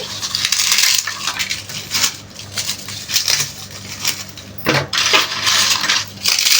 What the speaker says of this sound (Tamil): இப்போ நம்ம பொறிச்சு வச்ச அப்பளத்தை நுணுக்கி இதில் போட்டுக்கலாம்